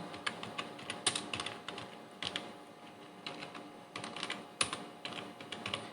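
Steady typing on a computer keyboard while entering C++ code, with clusters of quick key clicks and occasional heavier keystrokes at close range, heard alone without talk.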